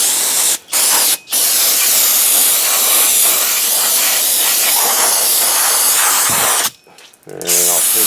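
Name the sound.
brake cleaner spray on truck brakes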